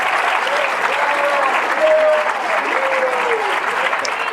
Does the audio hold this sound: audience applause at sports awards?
yes